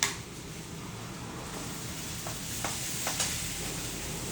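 Potatoes and okra sizzle in a pan with a steady, quiet hiss of frying, with a few faint clinks of stirring and no talking.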